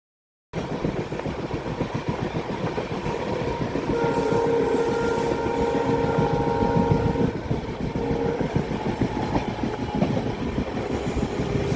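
A passenger train on the Western Ghats coastal line in Karnataka runs steadily along the rails, with a continuous rumble and rhythmic wheel clatter, heard close from on board and holding at even loudness throughout.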